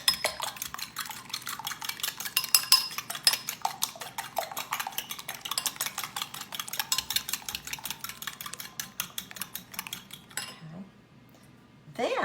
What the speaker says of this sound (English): I'm going to go ahead and mix that up using a fork.